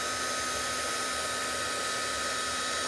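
A heat tool blows a steady, even whir of hot air while melting embossing powder on a stamped card image, a constant airflow hum with no pauses.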